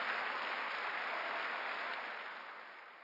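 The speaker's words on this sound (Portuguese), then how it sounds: "dá um aplauso bem forte ao Senhor Jesus." Applause rises from a church congregation during a Sunday service, a dense, even wash of many hands clapping that holds steady and then fades away over about three seconds.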